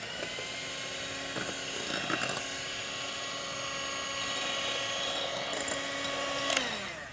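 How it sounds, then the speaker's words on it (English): Cake batter being whisked, heard as a steady, close mechanical whirring drone that holds for the full stretch with slight shifts in pitch and no speech. "Wait, just whisk it up a bit more."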